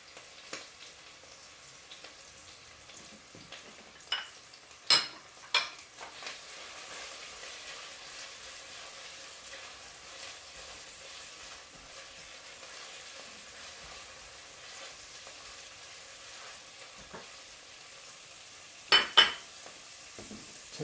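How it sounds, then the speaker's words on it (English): Garlic sizzles softly in a pan on a home stove, a faint steady fry broken by a few sharp clinks of a utensil against the pan near the start and again near the end. "you want to move quickly once you start putting the garlic in because you don't want that to burn"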